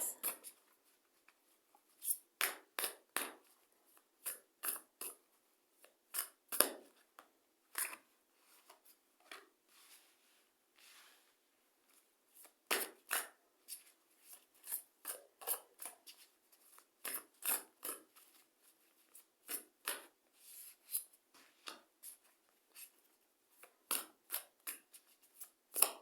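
Tarot cards being shuffled and handled in a quiet room, a long series of quick crisp snaps and riffles in irregular bursts, close and fairly soft, with no talking.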